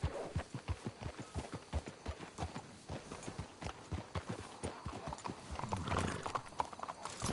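Horses in Red Dead Redemption 2 clip-clop along at a steady walking rhythm, hooves close and distinct, with a brief whinny and snort near the end.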